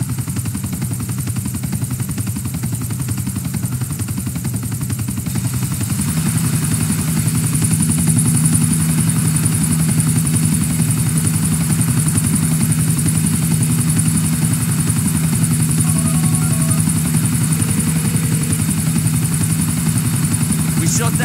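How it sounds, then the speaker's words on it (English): A helicopter's rotor drone runs loud and steady throughout in the video game Grand Theft Auto IV, with voices speaking over it. "Shut down that chopper for you."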